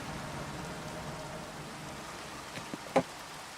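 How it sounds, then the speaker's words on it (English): Steady rain falls in Minecraft, a soft, faint hiss of droplets throughout, with a few brief louder knocks near the end. "And it's raining."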